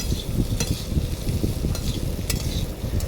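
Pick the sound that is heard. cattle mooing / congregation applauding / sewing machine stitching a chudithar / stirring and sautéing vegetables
stirring and sautéing vegetables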